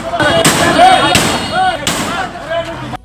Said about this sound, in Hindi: घर में रखे सिलेंडर अचानक एक के बाद एक कर फटने लगे